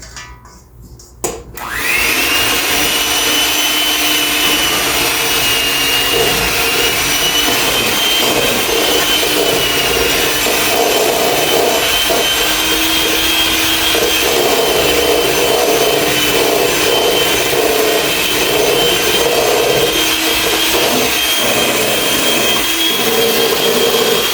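A hand mixer whirs continuously as it blends homemade hand lotion, switching on abruptly after a brief quiet moment and then running loud and steady with a constant motor drone.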